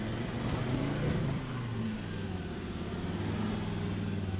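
A 4WD vehicle on a rocky off-road track reversing and then revving to climb over a rock, a steady low engine drone with slight swells in pitch, fairly loud and continuous with no talk.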